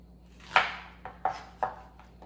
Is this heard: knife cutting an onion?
yes